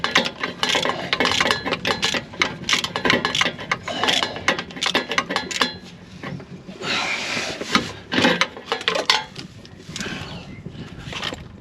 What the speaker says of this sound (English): and now I can turn that nut.